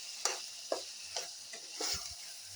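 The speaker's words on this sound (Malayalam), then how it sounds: "1/2 ടീസ്പൂണ് മഞ്ഞൾപ്പൊടി ഇളക്കി കൊടുക്കുക." Turmeric powder being stirred into mango ginger pickle, heard as a close, even series of spoon strokes over a soft steady hiss, with a low knock near the end.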